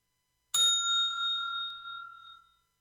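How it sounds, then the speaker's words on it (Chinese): A single electronic exam timer bell for a timed food-inspection practical test strikes once, sharp and clear, then rings out with a long fading tone for about two seconds, alone with no voices. "稍后听到铃声开始，就正式我们的跑台考试。"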